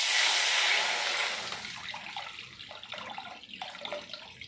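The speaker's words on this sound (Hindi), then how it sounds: "तो यहाँ पर मैंने कढ़ाई में पानी डाल दिया है।" Water is poured into a greasy iron wok on a gas stove, giving a loud, hissing rush at the start that thins into softer splashing and trickling as the flow tapers off.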